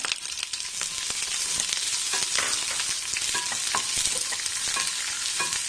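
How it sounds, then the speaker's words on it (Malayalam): Chopped onion and green chillies sauté in a hot pan for mango rice, a loud steady sizzle broken by the scrape and clatter of stirring, with no talking. "ഇനി ഈ ഉള്ളി നന്നായിട്ടൊന്ന് വഴന്നു വരണം"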